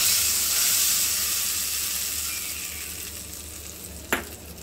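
A tempering of mustard seeds and curry leaves, tipped into curry leaf chutney, gives a bright, steady sizzle that slowly fades, broken near the end by a brief sharp clink.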